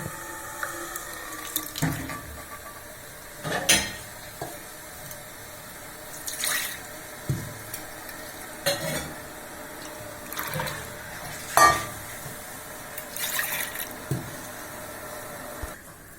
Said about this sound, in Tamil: இப்போ நம்ம இந்த பச்சை பயிருக்கு இதை ஊற்றிடலாங்க